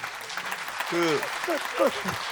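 At a Korean traditional performing arts storytelling event, audience applause rises as a steady patter under a voice talking over it.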